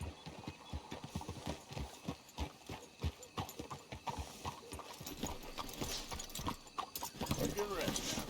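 Horses' hooves clip-clop in an irregular walking rhythm in the Red Dead Redemption 2 video game, fairly close, under bursts of speech and occasional snorts.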